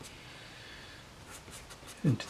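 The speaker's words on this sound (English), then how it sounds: "we're just trying to etch the pastel into the" Pastel scratching and etching into drawing paper, soft papery strokes in a faint repeated series, ending with a brief louder rub, close by and alone.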